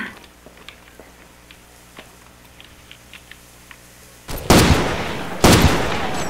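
Quiet clicking background, then two sharp, loud gunshot blasts about a second apart in the video game Far Cry 2 multiplayer, each trailing off with a brief echo.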